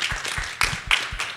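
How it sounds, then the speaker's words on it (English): Audience clapping for the panelists at the end of a Fedora community panel discussion at Flock 2024, short bursts of applause rising and falling over about a second and a half. "big round of applause for our panelists."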